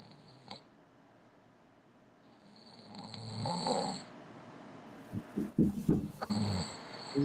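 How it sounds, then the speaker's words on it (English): A person asleep snoring during a football talk session, a soft rasping breath swelling up then a run of louder guttural snorts, heard nearby in a quiet room with no talking. "Somebody fell asleep snoring."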